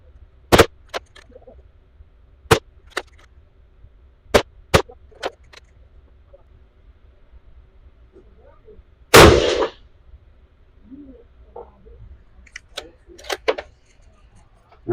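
Ruger American .223 rifle shots fired with CCI 450 primers at an outdoor range: about seven sharp, loud reports spread irregularly across the span, with a brief burst of noise midway and quiet gaps between.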